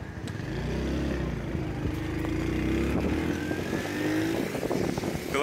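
A motorbike engine runs close by and steady, its pitch rising and falling as it revs and pulls away, with no talk over it.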